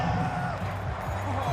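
A stadium crowd at a Browns at Titans football game keeps up a loud, continuous roar of rumbling voices and scattered whoops, heard from a distance.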